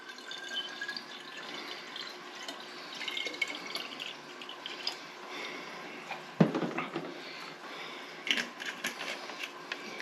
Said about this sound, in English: clean our jar out with our apple cider